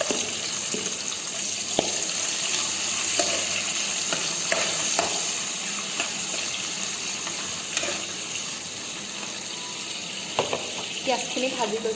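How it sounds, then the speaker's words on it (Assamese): Onions fry in hot oil in a home kitchen pan, a steady bright sizzle running throughout with occasional stirring clinks and scrapes near at hand, and no voices present. "পিঁয়াজখিনি ভাজি লৈছোঁ"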